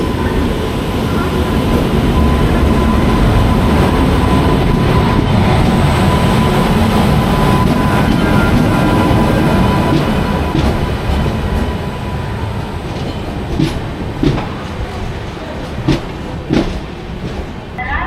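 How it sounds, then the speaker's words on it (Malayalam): The Kanyakumari–Pune Jayanti Janata Express, hauled by a WAP electric locomotive, roars in close by at a station, a heavy continuous rumble with clattering wheels that eases into lighter clanks and squeaks as it slows. "കന്യാകുമാരി പൂനെ ജയന്തി ജനത എക്സ്പ്രസ് ആണ് വരുന്നത് കണ്ടോ"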